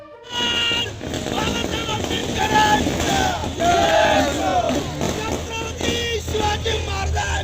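A crowd at a rally setting out for a groundbreaking ceremony raises loud, sustained cheering and shouting, dense and continuous, with vehicle engines faintly mixed underneath.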